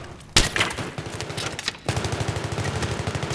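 Gunfire in a shooter video game: a sharp shot, then bursts of rapid automatic fire in a quick stuttering rhythm, a short pause, and another sustained burst.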